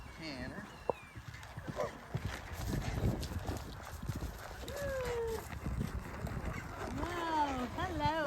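A horse warming up on a farm, with soft, irregular hoof thuds and clip-clops under people talking and some background noise.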